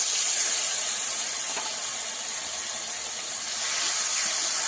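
Sizzling from spice-washing water poured into hot mustard oil while cooking a Bengali fish curry, a steady hissing spray that holds loud for several seconds with a slight dip in the middle.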